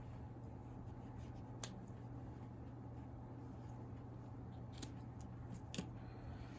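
Scissors snip through craft material for a handmade fishing gnome figure, a few faint, sharp cuts spaced apart over a quiet, steady background hum.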